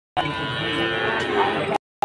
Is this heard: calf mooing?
yes